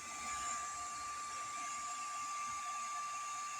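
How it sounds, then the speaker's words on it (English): A 1750 watt hair dryer running on a 3200 watt pure sine power inverter, a steady even blowing whir with a constant high whine, heard alone at a moderate level. "that's a 1750 watt hair dryer"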